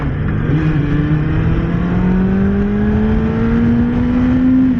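A Kawasaki Ninja ZX-6R sport bike engine revs steadily upward with a rising, buzzy whine, heard loud and close from the rider's position while the quick shifter fails to engage, with wind noise beneath and no talk.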